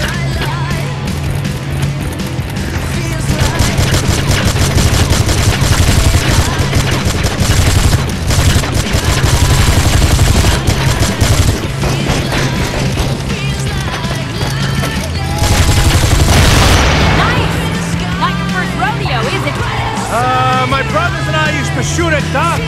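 Sustained automatic gunfire in the Gangstar 4 open-world game during a car chase, with dense rapid bursts nearly throughout, booming impacts, and an engine drone underneath.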